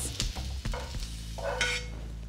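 Black bean burger mixture with cooked, softened vegetables is stirred and combined in a pan, giving a few brief scraping and clattering strokes over a soft hiss, close up, with no talking.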